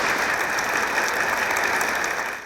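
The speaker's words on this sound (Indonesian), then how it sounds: "tepuk tangan dulu untuk Pak Pendeta." A television studio audience claps in a dense, steady wave of applause that holds at full loudness before fading at the end.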